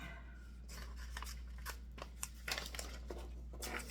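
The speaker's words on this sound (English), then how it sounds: "I held my paper to see how long I should be cutting it." Scissors snip through paper for a St. Patrick's Day craft, a series of crisp, close cuts and paper rustles in an uneven rhythm over a steady low hum, with no talking.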